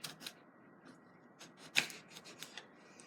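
Vegetables for an omelette being diced with a paring knife, a series of light, irregular cutting taps against a board, close and faint, with one sharper knock in the middle and no speech.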